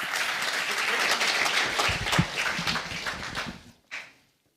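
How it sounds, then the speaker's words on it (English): Audience applause greets a head of state at a high-level international adaptation conference, a dense steady burst of clapping that swells, peaks and then tapers off abruptly, ending in near silence. "Please join with a big applause to His Excellency Macky Sall"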